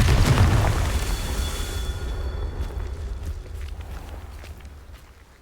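A Confringo fire spell bursts in Hogwarts Legacy: a dense, rumbling blast at the start that decays into a long fading roar with scattered crackles.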